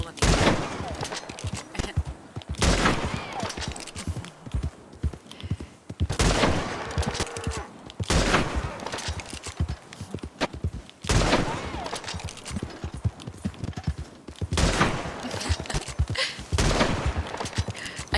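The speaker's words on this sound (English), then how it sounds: "I'll just shoot all of you." Gunfire from Red Dead Redemption 2 Online comes in repeated loud volleys of shots every couple of seconds, separated by brief quieter gaps, and a voice talks in between.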